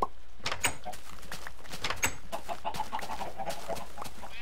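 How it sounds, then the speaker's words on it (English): Chickens cluck and squawk in Minecraft around a hen house, several short bird calls in an irregular rhythm over quiet game ambience. "I've got lots of chickens going right now."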